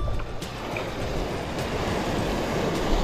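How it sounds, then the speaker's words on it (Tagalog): Waves washing on open water at a fishing spot, a continuous low rushing surge mixed with wind noise and a few faint knocks, with no voices. "Hoy, may alon."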